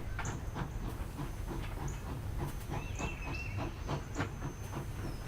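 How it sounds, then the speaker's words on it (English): Train station ambience from the video game The Lion's Song at Wiener Neustadt: a steady mechanical rumble with soft hiss and scattered clicks, and a few brief higher tones and a faint squeal drifting over the continuous bed. "Wiener Neustadt train station."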